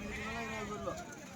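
Sheep bleat close by at the weekly sheep and goat market in Galiveedu, a wavering cry rising over a background of people talking.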